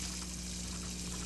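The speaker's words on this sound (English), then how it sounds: "Supposed to fill this up with water." Water pouring to fill a container in the Hello Neighbor video game, a steady faint rushing stream with no breaks, lasting a little over a second.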